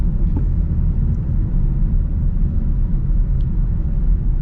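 A 2025 Hyundai Sonata Hybrid accelerates from the cabin with a steady, loud low rumble of engine and road noise. There are no distinct peaks.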